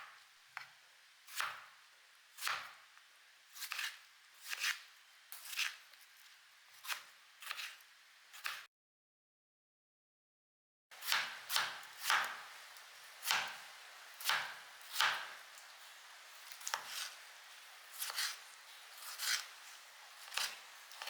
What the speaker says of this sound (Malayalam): എല്ലാം ഇവിടെയൊക്കെ നുറുക്കി റെഡിയാക്കി വെച്ചു.